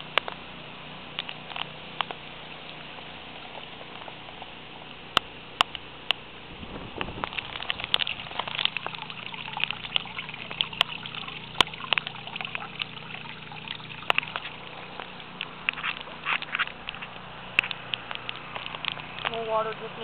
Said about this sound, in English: More water dripping in.